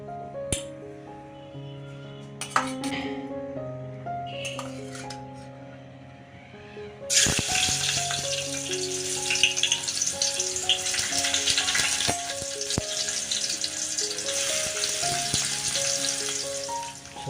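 Onions fry in hot oil in a Marathi-style kitchen. Soft music plays alone at first, then a loud, crackling sizzle bursts in partway through and continues steadily under the music.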